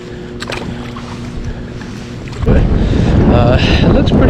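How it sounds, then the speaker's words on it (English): Strong wind buffets the microphone on a lake during kayak fishing, starting as moderate rumble then jumping to loud, continuous gusting roar halfway through, with faint water sounds beneath. "I just hate that it's so freaking windy this morning"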